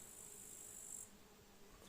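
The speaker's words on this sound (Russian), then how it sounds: "Вот пчела." Honey bees at an apiary in mid-July make a faint, continuous buzzing drone heard from close by, steady throughout with no voices over it.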